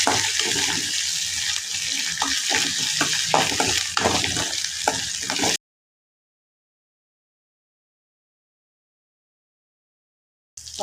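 Spices and fresh coriander leaves sizzle and get stirred in a hot pan while making boiled kodubale, with steady crackling frying and scraping for about five seconds, then sudden silence before a brief return at the end.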